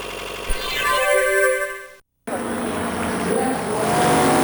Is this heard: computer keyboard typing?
no